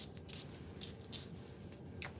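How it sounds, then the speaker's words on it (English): Clive Christian Town and Country perfume is sprayed from an atomizer in several short hissing bursts, close and faint against a quiet room. "now, when I really spray it, like I just did"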